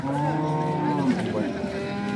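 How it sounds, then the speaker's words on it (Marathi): A cow at a busy cattle market in Sangola lets out a long, loud, close moo that lasts nearly the whole moment, with a faint murmur of the crowd behind it. "किती एकच गाय आणली"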